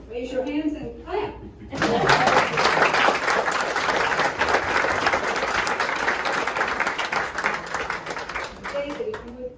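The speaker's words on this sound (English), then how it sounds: "raise your hands and clap" An audience at a Norman Studios event in Jacksonville, Florida breaks into loud, sustained applause and clapping after brief speech, with some chuckles mixed in before it fades and talk resumes.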